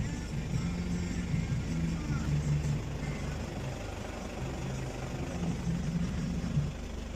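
A Toyota Hilux Surf diesel engine idles steadily as it warms up after an oil change, a constant low rumble held at an even level throughout.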